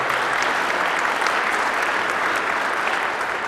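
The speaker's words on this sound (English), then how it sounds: "If you could give these people a round of applause for coming today." A full audience at a county's State of the County address claps loudly and evenly for honored guests, a dense, sustained round of applause with no voices over it.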